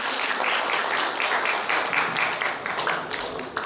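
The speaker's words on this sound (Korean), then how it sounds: "큰 박수 부탁드리겠습니다" An audience at a senior and disabled welfare center workshop gives a warm round of applause, dense steady clapping that holds for several seconds before tapering slightly, fairly loud and close.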